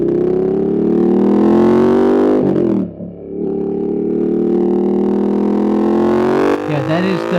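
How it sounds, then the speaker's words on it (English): A motorcycle engine drones steadily at speed with wind noise and a gear change partway through, captured close and loud by a DJI Mic 2 while riding. "Yeah, that is the sound of the bike."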